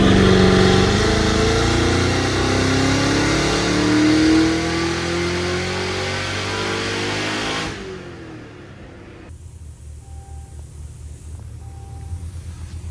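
A tuned stock car engine of a GT500, C7 Z06 or CT5-V Blackwing climbs through a long, loud, full-throttle pull on a dyno, then drops off to a lower hum and fades to a quieter background.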